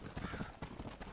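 Quick clip-clop of a black horse's hooves at a trotting rhythm in the video game Red Dead Redemption, moderately loud, with game background sounds around them.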